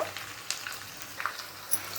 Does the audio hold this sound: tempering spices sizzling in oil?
yes